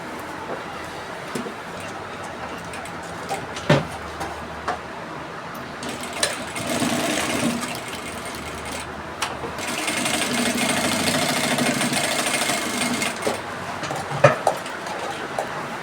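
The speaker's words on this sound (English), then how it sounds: "When I bring it out here, I'll top stitch on it." Sewing machine top stitching a dress hem, a steady mechanical whirring that runs in bursts, strongest in a long stretch near the middle and later, with occasional sharp clicks and clatters of handling between runs.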